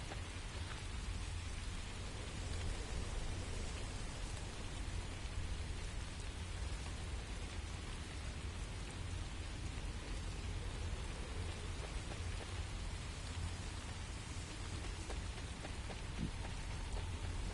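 Steady, dense rainfall in the video game The First Descendant, a continuous hiss of drops on surfaces with a low rumble beneath, unchanging and without voices.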